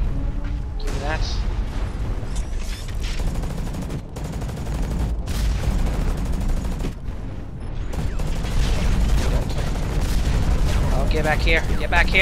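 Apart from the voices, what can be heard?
mech gunfire in the video game Hawken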